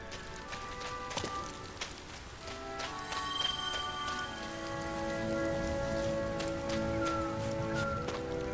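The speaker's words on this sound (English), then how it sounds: "I think the rain kills us." Rain in the video game Sky: Children of the Light, a soft patter of drops on surfaces mixed with sustained tonal game music and scattered sharp drip-like ticks, fairly quiet throughout.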